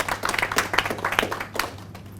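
Applause from a church audience greeting an honoured doctor, a dense patter of many hands clapping at moderate volume over a low steady hum, with no break across its length.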